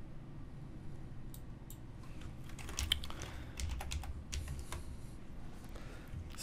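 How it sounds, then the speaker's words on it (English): Quiet typing on a computer keyboard while editing code, with scattered key taps building into a few short bursts of quick clicking. "Type it in like any text editor."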